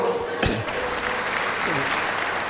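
An audience at a Women's Day debate event in Dharapuram gives brief applause that fades under a speaker's voice.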